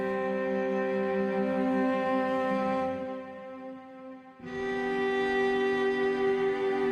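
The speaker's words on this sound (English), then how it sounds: "is the sound of a solo cello that dares to be different" A solo bowed cello holding long, rich sustained notes, with a brief dip and pause before the tone swells back in, steady and close.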